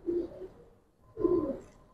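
Pigeons coo close by, two soft, rounded low coos separated by a brief pause, with no other sounds around them.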